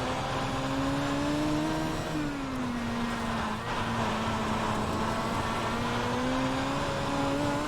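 A dirt midget race car engine drones steadily in an iRacing simulation, its pitch easing and rising as the throttle is rolled off and back on, loud and close with no voices.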